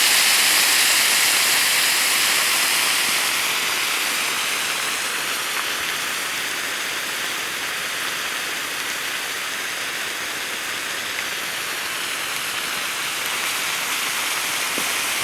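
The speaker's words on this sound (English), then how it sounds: "Okay, we're up to a boil." Water boiling steadily inside a hollowed cactus heated by hot rocks, a continuous bubbling hiss and seething wash that stays loud and close throughout with no talk over it.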